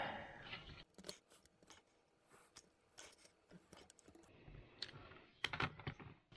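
Small close snipping and clicking sounds as a hole is cut into a plastic sensor enclosure, irregular sharp cuts with quiet pauses between them, faint and near.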